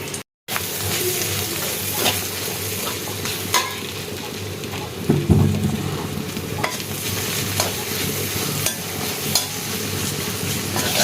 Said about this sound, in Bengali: আমি এখন পেঁয়াজ দিয়ে দিলাম, একটু জিরার গুঁড়া দিচ্ছি